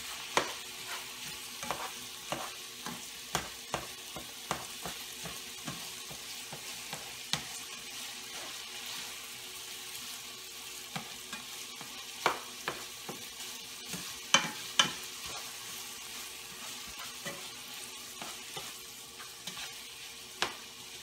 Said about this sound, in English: So we'll go ahead and get this browned up.